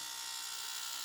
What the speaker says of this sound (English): And I will try with the hair trimmer.